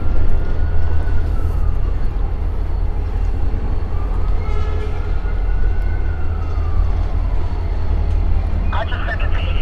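A distant ambulance siren wails in slow rising and falling sweeps over a constant low rumble near a railway line on a clear day, with people talking over it.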